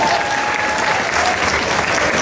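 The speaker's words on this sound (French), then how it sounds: "On les applaudit aussi, même s'ils sont gênés" Steady, dense audience applause for a cosplay contest jury at the Animasia Cosplay 2010 finale, a continuous wash of many hands clapping at even loudness with no pauses.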